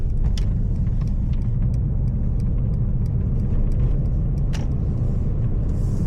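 Steady low road rumble and engine drone inside a Mercedes-AMG C63 S cabin while driving, with faint ventilation hiss and occasional small ticks, no talking.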